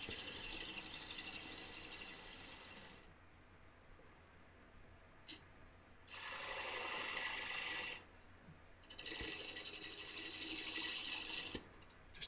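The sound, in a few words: spindle detail gouge cutting oak bowl on a lathe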